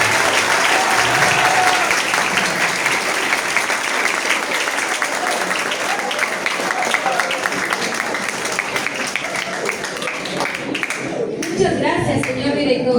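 Loud, sustained applause from an audience welcoming a guest at a ceremony. Dense clapping runs steadily with scattered voices mixed in, then breaks off abruptly near the end.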